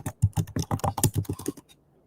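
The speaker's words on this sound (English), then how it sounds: "I'm rattling my microphone." A microphone being rattled right at the pickup, a quick run of about ten close, sharp clacking knocks over a second and a half before falling silent.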